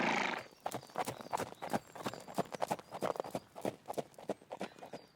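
Horse hooves clip-clopping in a steady, brisk rhythm of sharp knocks that runs the whole time, loud and close, with a brief whinny at the start.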